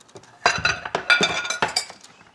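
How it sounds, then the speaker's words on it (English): A pie pan is grabbed and set down during home baking, giving a quick series of close clinks and knocks that are bright and fairly loud over a short, busy moment with no talking. "I'm gonna grab my pie pan now"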